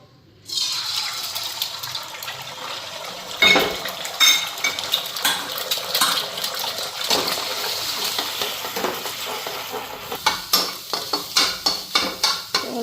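Oil sizzles in a wok as eggs are added, followed by frying with clattering utensil scrapes and stirring that grow more rhythmic toward the end.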